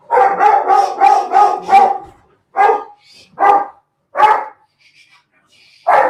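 A dog barks in a fast burst of about six loud, close barks, then a few single barks spaced out with short pauses between them.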